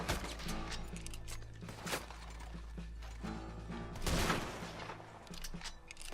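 Rifle shots ring out in Red Dead Redemption 2, several sharp reports scattered over a few seconds. Mechanical clatter from the action and ambient game noise run underneath.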